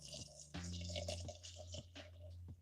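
Hot water is poured over coffee grounds in a coffee maker, soft gurgling pours and drips starting and stopping in short bursts, close and fairly quiet.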